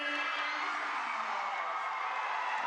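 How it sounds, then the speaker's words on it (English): Fans in a school gym called the Brick House cheer loudly at a student-run volleyball match against Roseau, a sustained roar of shouts and whoops from the stands. "Riley Browse receiving a loud cheer from the fans here in the Brick House"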